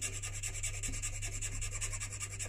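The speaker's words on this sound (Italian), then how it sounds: "Ora sto andando con una lima mezza dolce perché mi sto avvicinando piano piano" A pipe stem being worked with a half-smooth file, steady rhythmic rasping strokes repeating evenly and close up, over a constant low hum.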